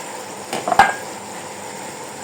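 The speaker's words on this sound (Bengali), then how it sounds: "ভাবলাম যে ছোলা কাটা একটু ভাজি করে নিই" Soaked sprouted chickpeas fry in a pan with a steady soft sizzle, broken near the middle by a couple of brief metal clinks and scrapes of a utensil against the pan.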